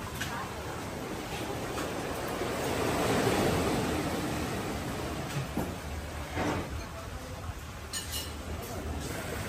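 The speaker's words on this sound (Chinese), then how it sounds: "最重要是坐在海边听海浪声吃早餐" Sea waves wash onto a beach beside an outdoor breakfast spot in a continuous, fairly loud surf that swells slightly near the middle.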